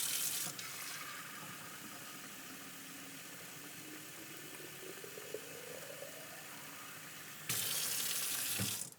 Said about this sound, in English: you get your unfiltered water and you put it in your vessel